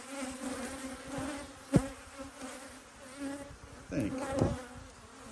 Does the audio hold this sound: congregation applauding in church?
no